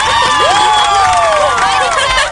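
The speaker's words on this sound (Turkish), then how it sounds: "Kızları bir araya getirip oğlanlara onlar kadar iyi olduğumuzu gösterdiği için Zoe'yi alkışlayalım." A studio audience bursts into loud cheering, whoops and applause for Zoey, a dense continuous roar of many voices with shrill rising shouts throughout.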